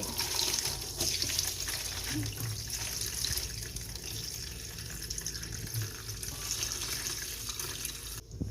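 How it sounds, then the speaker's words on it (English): Homemade chicken broth, made in a pressure cooker with vegetable tops and leftover chicken, poured through a strainer into a bowl: a steady, close liquid splashing and trickling that runs continuously throughout, with no talking. "I'm just going to pour it over a strainer right into a bowl"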